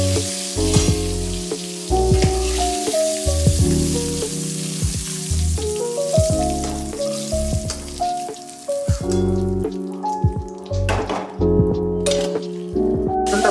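Pointed gourd (potol) pieces sizzle and crackle steadily in hot oil in a pan for a yogurt-based vegetarian dish, with occasional clinks of a utensil against the pan and no talking.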